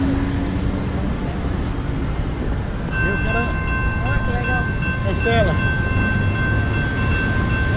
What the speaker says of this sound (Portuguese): Vai passar um trem agora